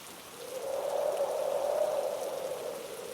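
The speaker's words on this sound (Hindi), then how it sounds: "बारिश अब पहले से भी तेज हो चुकी है।" Heavy rain falls in a cold forest, a steady wash of pouring water that swells louder midway and then eases slightly. The sound is continuous, with no voices.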